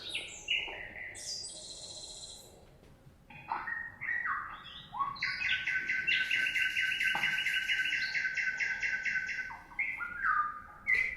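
Nightingale song from Berlin, close and loud: rapid bright whistles, chirps and buzzing trills in varied phrases, almost continuous over about eleven seconds with no voices.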